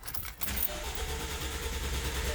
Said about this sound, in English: Then you press down the accelerator pedal so that the engine doesn't start, and then you start cranking